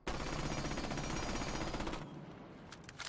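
Rapid automatic gunfire from a video game rifle fitted with recoil-reducing attachments, a loud dense burst that runs steadily for about two seconds and then stops, leaving faint residual clatter.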